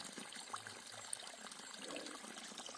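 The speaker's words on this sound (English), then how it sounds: "Most shelters have a water source close by, and that's a really nice flow there." Water from a spring source near a trail shelter in the forest flows in a steady, soft trickle that runs continuously at moderate distance, with no voices.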